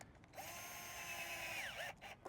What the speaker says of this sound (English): I'm gonna install these on my nose and tail with this power drill